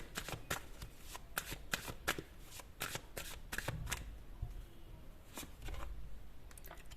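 Tarot cards riffled and shuffled by hand at close range, a steady run of rapid papery flutters and snaps lasting several seconds, with no talking over it.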